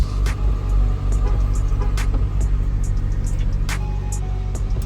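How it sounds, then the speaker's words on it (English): An Acura RSX engine with a fuel leak and fuel pump problem idles close by, a steady low rumble with brief clicks and knocks on top. "Let's just go turn the car on."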